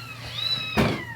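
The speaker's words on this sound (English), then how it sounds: "they're meowing because they want to come out, but they can't, sadly" Kittens meow in a rising, drawn-out cry close by, followed by a brief soft knock or rustle, with no talking.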